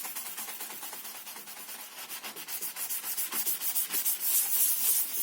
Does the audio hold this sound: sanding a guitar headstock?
yes